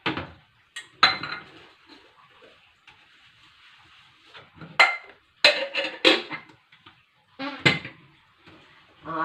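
Cooking pots, a casserole pan and a wok-style skillet being washed with ladle and spatula nearby, giving intermittent clinks and clatters of metal cookware in bursts, close and moderately loud, with no talk over them.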